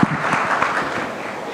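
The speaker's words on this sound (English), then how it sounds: "4-time MP, round of applause." An audience at a youth conclave in Mumbai bursts into a round of applause, a dense close clapping that starts sharply and carries steadily through.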